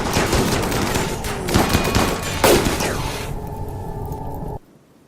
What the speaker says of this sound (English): This guy's shooting up here at Valerian pretty hard.